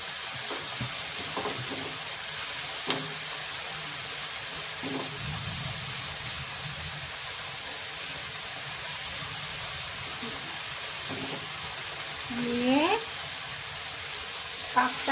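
A spoon stirs red amaranth tikia mixture in a pan over a steady sizzling, frying hiss, with scattered soft scrapes and clinks throughout and no talk.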